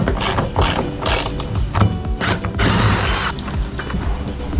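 A ratchet with an 11 mm 12-point socket clicks rapidly in loud bursts while removing star bolts from a passenger van, close and alone.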